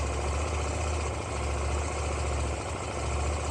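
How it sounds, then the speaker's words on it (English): A KTM 790 Duke motorcycle idles just after start-up, a steady close engine hum with a low throbbing pulse running evenly throughout, no voices. "As soon as you start this bike up, you'll notice it's a lot more aggressive"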